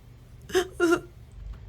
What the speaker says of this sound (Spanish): acá está llorando el mosquito